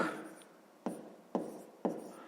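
Pen strokes scratch softly on paper while numbers are written by hand, quiet and close, with a few sharp starts to new strokes.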